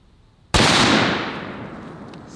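A single sharp rifle shot from a Savage Axis .308 fired into a stack of giant balloons cracks loudly after a short quiet moment, then its boom rolls away slowly over the next two seconds.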